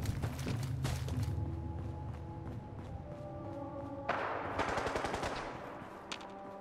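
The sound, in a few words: gunfire from a battle in the video game Fallout 4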